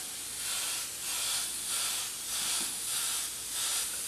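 An airbrush mists transparent pure yellow paint onto a T-shirt, a continuous close hiss that swells and eases in slow regular waves as passes are made, with no talking.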